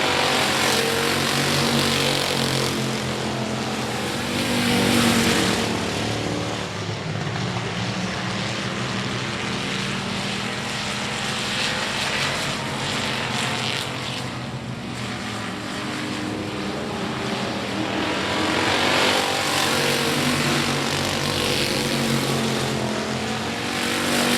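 Race cars roar around the I-37 Speedway oval, a continuous loud engine drone that swells as cars pass close and fades slightly between passes, with no talking over it.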